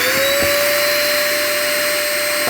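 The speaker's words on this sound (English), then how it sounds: "so if I turn the vacuum on" A vacuum unit on a sandblast cabinet runs steadily and loudly with a continuous whine and broadband rush, holding constant throughout with no voices.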